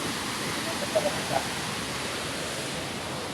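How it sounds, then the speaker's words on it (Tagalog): Majay-jay Falls, a waterfall, roars as a steady broadband rush that stays even throughout, with a couple of faint brief voice traces briefly rising above the constant water noise. "Ayun na yung falls."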